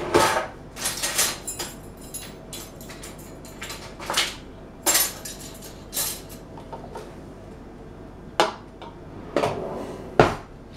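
A small saucer and a tablespoon are handled in a kitchen while a coconut cream pie is being made. Sharp ceramic and metal clinks come in scattered bursts, close and fairly loud, with no talk.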